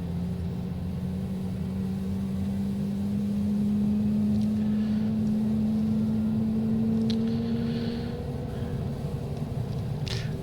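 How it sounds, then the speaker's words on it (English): Aircraft engine number one spooling up after start on a cockpit flight from Colombo, Sri Lanka, to Banda Aceh, a steady rising whine over a constant low rumble that holds loud and close throughout. "start engine number 1"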